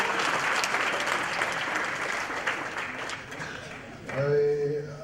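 Audience applause fills a graduation ceremony, steady dense clapping for about four seconds before it thins and a voice rises briefly near the end.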